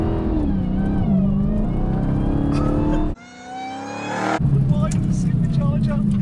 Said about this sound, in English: Supercharger, it's so good, just that noise.